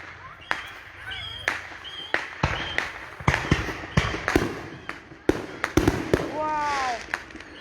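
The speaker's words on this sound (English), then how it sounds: "Want to watch fireworks?" July 4th fireworks pop and crack in a rapid, irregular string of sharp bursts, some whistling as they rise, loud and fairly close, while people talk and call out nearby.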